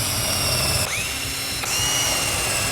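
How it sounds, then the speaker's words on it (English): Power drill boring pilot holes into wooden planters, a loud whining motor with two short pauses where the pitch drops and climbs again as it spins back up. "for these planters, you have to pre-drill a lot of your holes"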